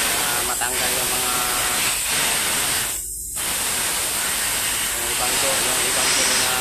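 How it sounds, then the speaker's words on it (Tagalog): Compressed air blasts steadily from the compressor tank underneath an Isuzu truck with a 10PD1 diesel engine, a loud, continuous hiss that cuts out briefly midway before resuming. "So hanginan ko dito sa compressor tank, dito sa ilalim."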